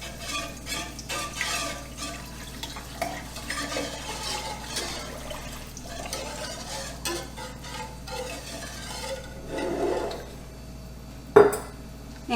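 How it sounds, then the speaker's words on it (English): A spoon stirring apple pie filling with sugar and thickener in a pot, soft scraping and sloshing throughout at low level, with a sharp clink of utensil against the pot near the end. "I'm just going to mix this in real well before I add everything else."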